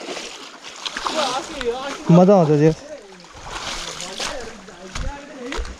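Clear water streams steadily through a kulo irrigation canal at Sundarijal, a continuous rushing wash under people talking close by.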